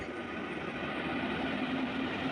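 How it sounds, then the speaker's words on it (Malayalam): The Ernakulam–Bangalore superfast express train rumbles into Edappally railway station. A steady, distant roar of wheels and engine slowly swells, and no voices are heard. "അപ്പോൾ ഇതാ അടുത്തൊരു ട്രെയിൻ വരുന്നുണ്ട്."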